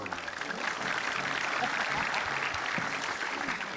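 A studio audience at an Indonesian television talk show breaks into steady, dense applause, sustained and fairly close throughout with no break.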